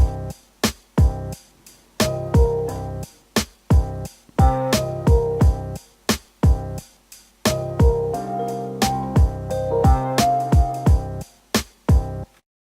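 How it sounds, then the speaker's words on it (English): A looping beat with punchy kicks, snappy percussion and ticking hats over a tonal sample, steady tempo, loud and upfront with no voices. "the drums, hi-hats and the sample sound like this"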